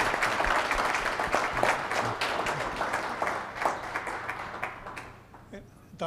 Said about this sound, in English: Could we have a round of applause for our panelists,